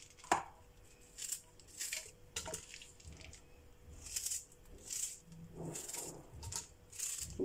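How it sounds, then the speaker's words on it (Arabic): An onion is chopped with a knife on a cutting board, soft close crunching strokes in uneven bursts, several cuts in quick succession with short pauses, quiet and with no talking. "كنقطعو البصلة"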